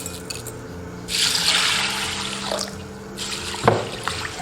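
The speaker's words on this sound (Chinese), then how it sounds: "我们先把绿豆清洗干净。" Mung beans, both hulled and skin-on, being washed in water in a kitchen, with a steady splashing and running-water wash that swells in the middle and ends in a sharper slosh, close and without talk.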